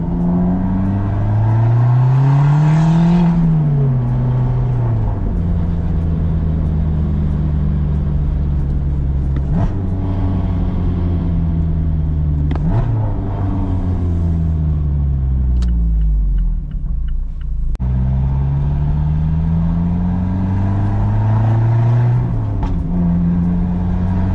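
A loud turbocharged ND Mazda Miata engine revs repeatedly, pitch climbing and dropping in several surges with brief shifts between, heard up close without any talk.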